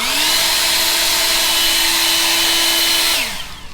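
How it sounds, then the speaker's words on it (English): A handheld power blower runs steadily at close range, clearing leaves off a driveway, with a constant whining motor tone for about three seconds before it winds down and fades. "Got my leaf blower."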